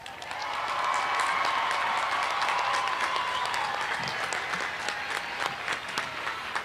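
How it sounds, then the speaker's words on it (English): An audience at a high school commencement claims a round of applause, steady dense clapping that swells in quickly and holds loud for several seconds before thinning slightly at the end. "Please join me in a round of applause to recognize our top scholars."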